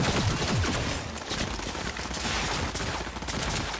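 Rapid gunfire in Cyberpunk 2077 plays on PS5 as steady bursts of shots, loud and close, continuing throughout with no voices.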